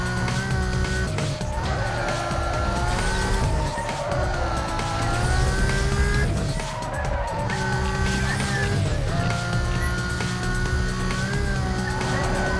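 A Lamborghini Gallardo in Need For Speed: Most Wanted drives with a loud, steady engine drone and shifting pitch, tire squeals and a police siren wailing over the continuous motor noise.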